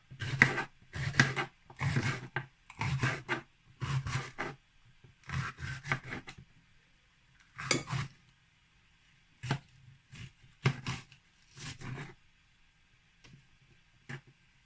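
A knife chops through green plantain on a board in a quick series of crisp, close cuts, with brief pauses between bursts and sparser single strokes toward the end.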